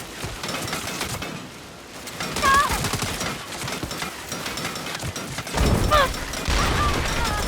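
Rapid bursts of turret gunfire in the action game Saints Row, loud, dense crackling volleys alongside crashes and other game effects, with a voice shouting over parts of it.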